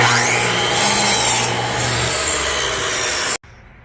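A hand saw cuts through a wooden board to make a riser for HO-scale model railroad bench work, steady close raspy back-and-forth strokes that stop abruptly near the end.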